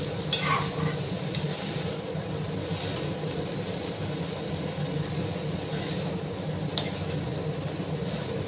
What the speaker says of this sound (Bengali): সবগুলো পেঁপে আমি দিয়ে দিলাম। এবার ভালো করে নাড়াচাড়া করে নেব।